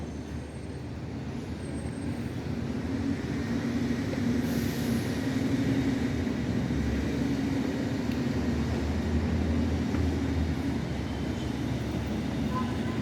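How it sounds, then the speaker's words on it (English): A low, steady rumble of an MBTA commuter rail train drawing near Ruggles Station, continuous and building slightly, with faint background noise and no clear voices. "They do have a train approaching"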